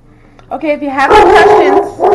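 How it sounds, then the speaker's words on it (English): A dog barks in a home kitchen, a few loud, close yips and barks in quick succession, partly overlapping a person talking. "sorry about that, that's the dog, obviously."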